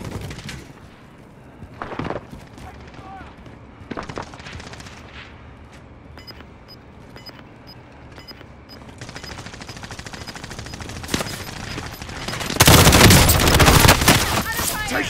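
Gunfire in Call of Duty Modern Warfare during a quads match: scattered distant shots crackle through a quiet stretch, then a loud, dense burst of automatic fire erupts near the end.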